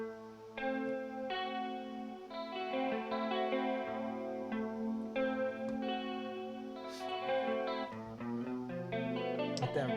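A rock band's song with heavy guitars, glossy reverb and echo effects, playing loud and continuous with layered sustained chords and a steady low end throughout.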